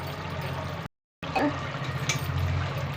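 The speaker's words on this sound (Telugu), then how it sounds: "ఈ గ్రేవీ గిన్నెలోని కొంచెం వాటర్ వేసుకుని మనం" Water splashes and trickles into a pot of simmering chicken curry gravy, a steady pour broken by a brief silent gap before the liquid sound resumes.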